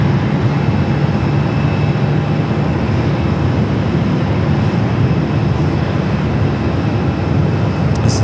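An airliner rolls down runway 25 right at Phoenix Sky Harbor, a loud, steady broadband roar of jet engines that holds evenly throughout with no speech.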